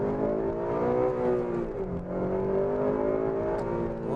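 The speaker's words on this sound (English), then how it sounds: "push it a little bit, get the VTEC kick in" A 2009 Honda Civic Si engine revs up as VTEC engages while cornering, a loud, sustained rising engine note heard from inside the car, dipping briefly mid-way before climbing again, no talking.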